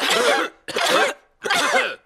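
Three harsh, separate coughs, close and loud, with short silent gaps between them.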